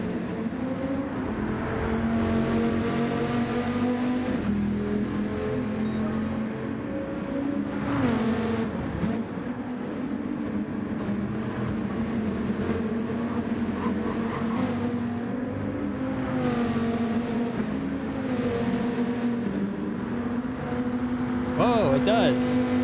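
Race car engines lapping Mount Panorama in a sim racing game, a continuous droning whine that rises and falls with shifts and passing cars, heard beneath a commentator talking throughout.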